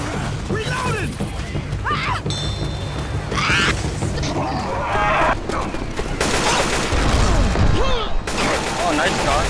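Rapid video game gunfire from Left 4 Dead 2 versus mode, bursts of shots and clattering weapon sounds, loud and close, with game voices speaking over parts of the firing.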